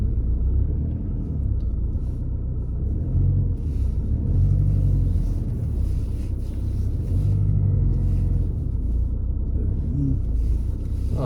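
Steady low rumble inside a VW Golf 1.6 diesel driving along on a driving test, engine drone constant and close with mild swells, no one talking over it.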